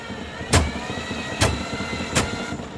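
A drain-cleaning machine spins its cable down a clogged, backed-up kitchen sink drain, giving a steady motor whir broken by three sharp, loud bursts at roughly even intervals.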